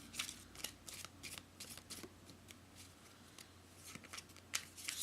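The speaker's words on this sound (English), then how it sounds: "I'm going to pick two cards from the Brotherhood of White Light Egyptian Tarot." Cards from an Egyptian tarot deck are shuffled and drawn, giving quiet crisp riffling and sliding snaps in irregular bursts, close and alone.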